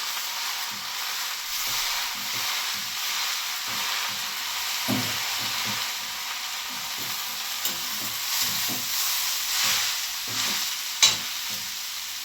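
Vegetable fried rice sizzles steadily in mustard oil with soy sauce on an Elica gas hob, a constant frying hiss broken by rhythmic scraping and stirring taps of a spatula in the pan, close and continuous.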